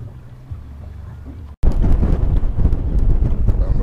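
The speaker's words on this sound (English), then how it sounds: "it is very windy today" Strong wind buffets the microphone outdoors on Watts Bar Lake, where whitecaps are rising while catfishing from a boat. A low rumble cuts out briefly, then returns as loud, continuous roaring gusts.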